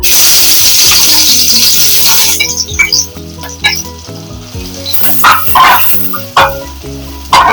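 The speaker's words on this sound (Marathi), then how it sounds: "आता तेल आपलं तापलंय, त्याच्यात मी लसूण घालते फोडणीला।" Garlic hits hot oil in a pan for a tadka, a loud bright sizzle at first that settles into softer crackling with occasional stirring clatter.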